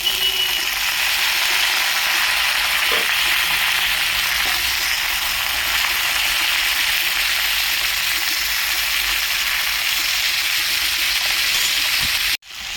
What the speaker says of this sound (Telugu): చిక్కుడుకాయ ముక్కలు ఇందులో వేసేద్దాం.